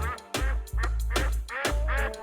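A Pekin duck gives a series of about four loud, close, raspy quacks in quick succession with short gaps between.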